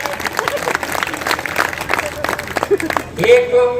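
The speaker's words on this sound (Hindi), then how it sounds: "ताली बजाइए।" An audience at a Hindi poetry recital at an all-India kavi sammelan claps in scattered bursts under a speaking voice. The applause is uneven and moderately loud, and another voice rises near the end.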